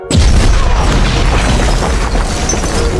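A loud explosion erupts in a film and rolls into a sustained, thundering roar of debris and rumble that fills the whole stretch.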